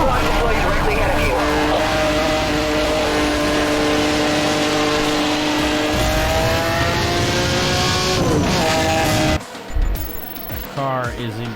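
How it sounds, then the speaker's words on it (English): A loud car engine in the racing game Need for Speed Hot Pursuit roars and revs steadily, with shifting engine pitch, then cuts off abruptly near the end as other game sounds take over. "Car is incredibly loud. Like, that thing is super loud."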